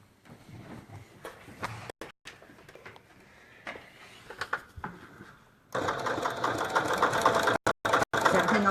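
Sewing machine stitching down joined quilt-as-you-go blocks runs steadily and loudly through the latter part, preceded by quieter start-and-stop stitching bursts and handling noises.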